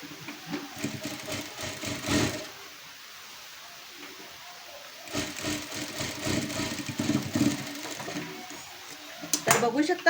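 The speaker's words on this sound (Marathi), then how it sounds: "आता आपण ह्या साईडला पण कवर शिलाई मारून घेऊयात" A sewing machine runs cover stitching along a blouse seam in two bursts of steady mechanical whirring, one short and one longer, with a pause between them.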